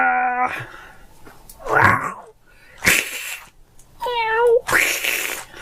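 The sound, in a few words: person imitating a cat meowing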